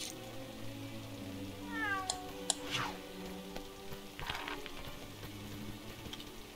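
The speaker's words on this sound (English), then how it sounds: "Here, kitty cat." A cat's meow from the Lego Harry Potter video game, heard as a short rising, wavering call midway over steady game music and ambient background, with a couple of clicks nearby.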